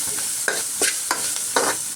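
Sweet potato fries in a pan with salt added and is stirred, giving a steady bright sizzle broken by several scraping stir strokes, close and fairly loud.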